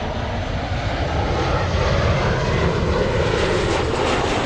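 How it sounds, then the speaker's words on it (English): A JetBlue airliner's jet engines rumble loudly and steadily as it moves at LAX airport, a dense, close roar holding its level without pause. "Finally, we have the JetBlue flying to Fort Lauderdale. Finally on the move."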